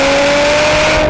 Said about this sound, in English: This 6-speed rear drive budget rocket makes a great sound at full rip